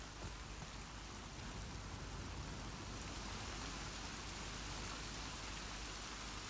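Rain falling in The Last of Us Part II, a quiet, steady wash of dense patter with no distinct drops standing out and no voices.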